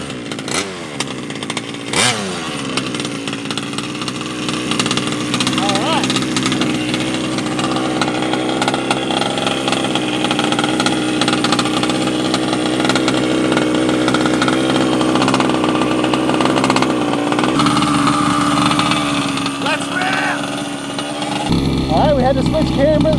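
Small gas engine of a Redcat Rampage XT RC monster truck running close and loud, a buzzing chainsaw-like drone with throttle blips and revving, while people talk and shout over it.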